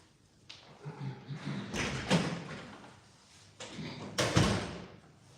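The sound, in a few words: door being closed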